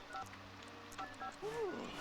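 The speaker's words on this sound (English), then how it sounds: "Okay, we're calling Michael Curious, and we're just talking" A telephone dialing in the video game The Sims 2: a handful of short, bright keypad tones beeping one after another, followed by a brief rising electronic chirp.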